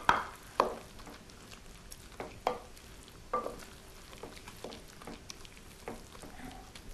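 Spinach tart filling being mixed in a bowl, with a handful of distinct scraping and tapping strokes spaced irregularly over a soft background, fairly close and moderately quiet.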